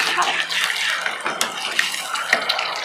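Boiled water pours into a pan of masala for a yogurt-based katla fish curry, a short, steady splashing gush heard up close.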